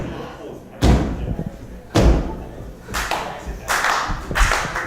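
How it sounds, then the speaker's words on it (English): A female wrestler is tossed to the mat in a brawl, producing several sharp, loud slams and thuds a second or so apart, with commentary and crowd noise between impacts. "Steffi gives up on the front chancery and chooses to just toss Angie Sky to the ground by the back of her head."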